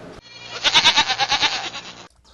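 A billy goat lets out a loud, close, wavering bleat, a rapid series of pulsing quavers that swell and fade over about a second and a half, with near silence on either side.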